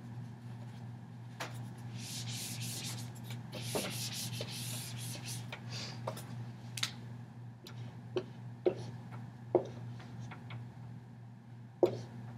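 An eraser rubs back and forth across a drawing on a board in short scratchy bursts with a few sharp taps, faint and close over a steady low hum.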